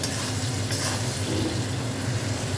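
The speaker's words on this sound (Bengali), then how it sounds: "নুনটা দিলে তাড়াতাড়ি পেঁয়াজটা ভাজা হয়ে" Salted onions fry in oil in a steady, close sizzling hiss with light stirring underneath, unbroken from start to finish.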